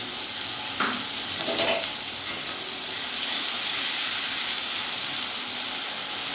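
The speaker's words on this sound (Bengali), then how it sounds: "তারপরে আমি আদা, কাঁচা লঙ্কা, টমেটোর যে পেস্টটা করে রেখেছি ওই পেস্টটা আমি এই পেঁয়াজের মধ্যে দিয়ে দেব" Ginger, green chilli and tomato paste hit frying onions in a pan with a close, steady sizzle and hiss, with a few stirring scrapes early on and no voices.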